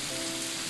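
Rain falls steadily during Hurricane Matthew, a dense even patter with no break over the brief moment.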